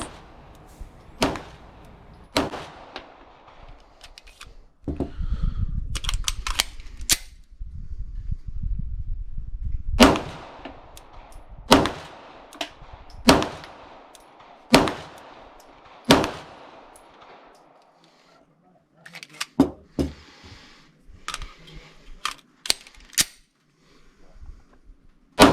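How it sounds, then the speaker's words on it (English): Sharp, isolated handgun shots from .45 and 9mm pistols crack at irregular intervals, some in quick pairs, with quiet gaps between, and no voices. "With the 45, every shot feels heavier"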